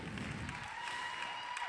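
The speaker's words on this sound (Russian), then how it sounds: "ваши аплодисменты" Applause from a graduation audience, a dense, steady wash of many hands clapping that continues for the whole short stretch with no talking.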